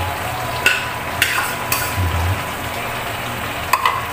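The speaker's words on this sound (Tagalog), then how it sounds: "So, haluin lang natin para mag-mix." Potatoes and carrots for pork menudo are stirred in a pan, with a few sharp spatula scrapes and knocks over a steady low background hum and faint sizzle.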